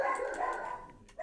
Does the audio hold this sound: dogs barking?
yes